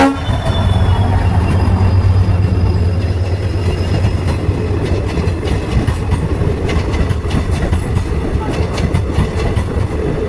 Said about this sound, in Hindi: इसके बाद आ जाती है दोस्तों ट्रेन